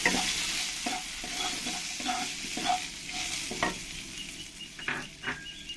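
Potatoes and green chillies fry in hot oil, a steady sizzle with repeated scraping strokes of stirring against the pan, close and moderately loud with no talking.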